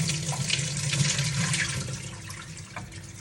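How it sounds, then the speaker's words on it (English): Water runs from a kitchen tap as rice is washed and rinsed through a strainer, a steady close splashing stream with a hum underneath that eases slightly toward the end. "I'm just washing my rice like this, washing it."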